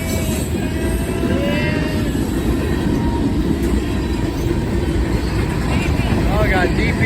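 A Union Pacific freight train with distributed power units rolls past at a street fair in Glendale, Ohio, making a continuous loud rumble and clatter of wagons. People talk over it, and a faint horn or squeal shows near the end.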